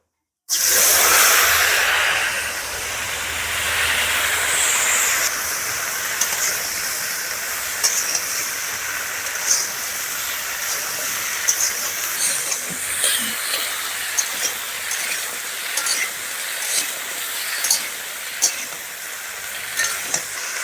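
Potato and cauliflower pieces dropped into hot oil with five-spice seeds burst into a loud, close sizzle, then settle into a steady frying hiss broken by light stirring clicks and scrapes, with no voices.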